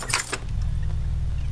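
Keys jangle briefly and brightly in a horror video game, a short metallic rattle at the start, then a low engine-like hum continues underneath.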